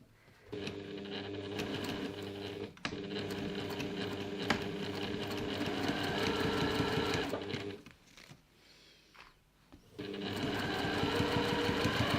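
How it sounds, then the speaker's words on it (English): Sewing machine running steady bursts of stitching along a seam of a reusable grocery bag, a close, continuous mechanical whir that pauses briefly near the middle before resuming. "we'll head over to the machine and we're just going to stitch this short end"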